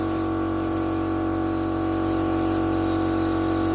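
Brake cleaner hisses steadily from an aerosol can onto a trailer part during a trailer restoration, a close, loud continuous spray lasting the whole stretch with no talking.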